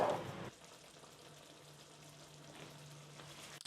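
Tomato sauce with a pinch of thyme comes to the boil in a pan, a faint soft bubbling and low sizzle with a steady hum, beginning just after a brief louder clatter and ending on a short knock.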